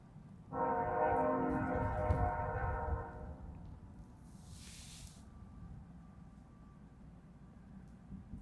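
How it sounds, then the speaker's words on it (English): A train horn blares in a long sustained chord for a few seconds beside a frozen lake while ice fishing, followed by the low rumble of the train rolling past at a distance. "Of course, you get a bite when the train is coming through."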